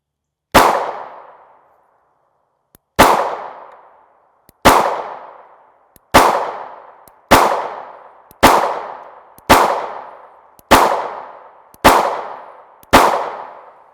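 Nine sharp gunshots from a Springfield Hellcat 9mm pistol with a 3-inch barrel, firing 124gr FMJ rounds, ring out loud and close in a steady string, each with a decaying tail, the first after a pause and the rest about a second apart.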